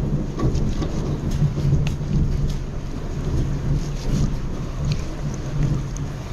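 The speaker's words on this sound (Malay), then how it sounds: "Hujan dekat luar." Steady heavy rain hisses outdoors on a riverside fishing trip by the Selangor River while low thunder rumbles roll underneath, a constant wash of storm noise with no voices.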